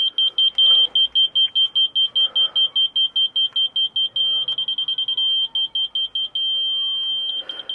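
Rapid, high-pitched electronic beeps pulse steadily throughout, loud and close, with faint talking underneath.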